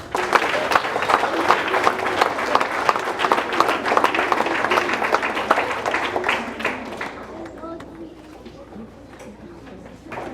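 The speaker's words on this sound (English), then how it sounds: "Let's give a big round of applause to all of our" Applause for award recipients at a school academic excellence ceremony, a dense crowd of hands clapping steadily before thinning and fading out toward the end.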